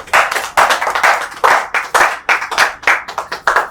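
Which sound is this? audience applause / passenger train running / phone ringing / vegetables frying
audience applause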